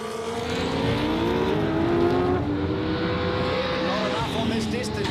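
A Nissan R32 GTR pulls hard down a drag strip, the loud engine droning and rising through gears before fading slightly, with voices talking over it.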